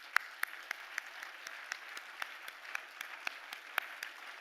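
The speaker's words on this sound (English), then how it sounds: "So give yourselves a round of applause" Sparse, quiet clapping at a press freedom award ceremony, with distinct individual claps landing in a loose, regular rhythm over a faint background.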